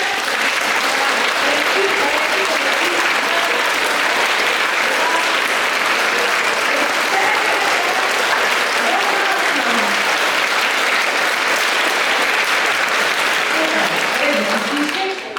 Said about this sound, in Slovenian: Teda kar ploskite.